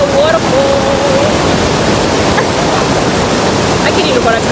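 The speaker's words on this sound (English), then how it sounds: "Guys, it's me again at the waterfall." Steady, loud rush of water pouring down a waterfall, a dense continuous roar filling the whole clip, with a faint whistle-like tone briefly riding over it near the start.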